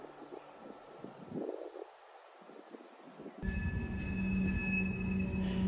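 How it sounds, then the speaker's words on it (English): A train rumbles past an old train station, a faint roar building into a louder, steady passage with high metallic wheel squeal and tonal ringing near the end. "we were really lucky to see a train go past"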